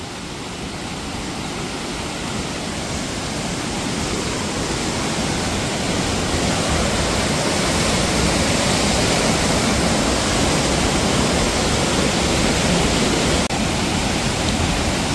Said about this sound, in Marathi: चला पूर दाखवतो तुम्हाला.